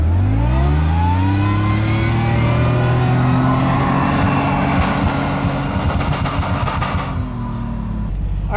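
A Jeep engine revs and drives through deep snow while off-road snow wheeling, the loud, steady drone rising and falling close by with bursts of throttle throughout.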